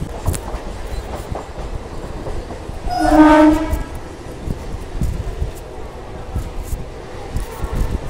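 A Howrah–Digha local train rolls toward Mecheda railway station with a continuous rumble and clatter, its horn sounding once in a loud, drawn-out blast near the middle; a voice can be heard faintly at times.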